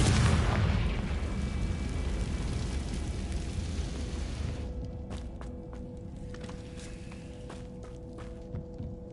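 Confringo blast spell in Hogwarts Legacy: a loud, dense burst of explosive rumble that fades over several seconds, followed by quieter scattered crackles and debris-like ticks.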